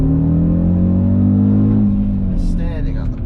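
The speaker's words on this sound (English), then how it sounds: "Standing on the brake pedal, into first gear, chucking it in, big power." An Audi RS Q3 engine held at steady high revs against the brake before a launch, a loud close drone that eases off near the end as a voice speaks over it.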